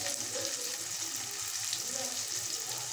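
Onions and tomatoes sautéing in a pan for a canned fish curry, a soft, steady sizzle with faint stirring, fairly quiet and continuous.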